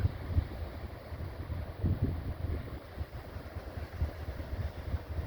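Wind blows outdoors on a calm bay at Point Samson in Western Australia, a steady low rumbling buffet on the microphone with uneven gusts, continuous and fairly close, with no voices.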